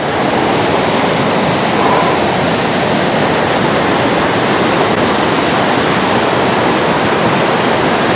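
Loud, steady roar of a swollen high-altitude alpine river running high and raging, broadband rushing water filling the whole stretch with no pauses and no talk.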